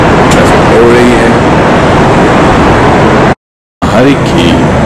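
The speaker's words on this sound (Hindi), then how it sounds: "ट्रैफिक हो रही है" Dense, steady evening road traffic heard from a high-rise, a continuous loud roar of passing vehicles with faint horn-like tones, briefly cut to silence before resuming.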